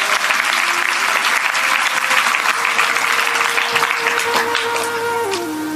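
Loud, continuous clapping from an audience at a Hindu religious discourse (satsang) fills the whole stretch, dense and close, with a faint sustained tone running underneath.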